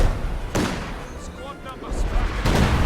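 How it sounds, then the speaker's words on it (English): Pathfinder artillery shells pound enemy emplacements in a strategy video game, heavy booming blasts and dense rumbling fire rolling through the clip, loud and close, with a sharp impact at the start and another near the end. "that Pathfinder artillery completely destroyed both emplacements"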